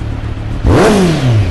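An inline-four motorcycle with an aftermarket carbon exhaust pipe revs sharply from a steady idle, its pitch rising in a quick surge and then sliding back down, loud and close.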